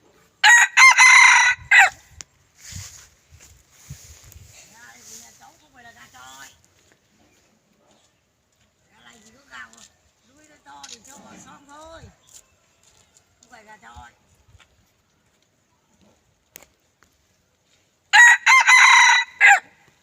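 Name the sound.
rooster crowing, fighting cock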